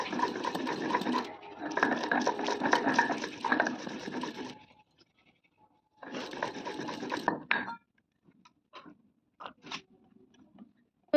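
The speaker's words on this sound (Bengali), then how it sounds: "সর্ষে, কাঁচা লঙ্কা আর আদা। এটাকে একটু ভালোভাবে বেটে নিচ্ছি।" Mustard seeds, green chili and ginger are ground into a paste in two loud whirring runs of a few seconds each, separated by a pause, followed by faint scattered clinks and knocks.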